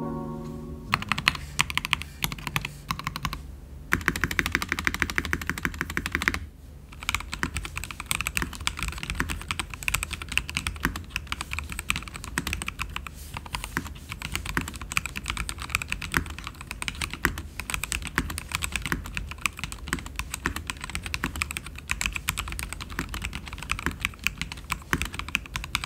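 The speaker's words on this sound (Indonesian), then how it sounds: "Berikut adalah typing sound testnya buat yang penasaran." Fast, continuous typing on a Melgeek Mojo68 plastic mechanical keyboard, dense close-up key clacks with brief pauses early on, no voices.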